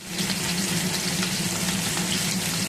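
Tilapia fish frying in hot oil in a pan gives a loud, steady sizzle that hisses on without a break and then stops abruptly near the end. No voices are heard.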